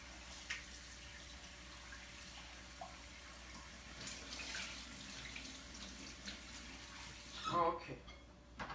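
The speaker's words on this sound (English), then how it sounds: "That's the way you wash your rice. You have to scrub it just like that." Rice being washed and scrubbed by hand in water in a kitchen, faint swishing and splashing with a running-tap wash in the background and a brief louder splash near the end.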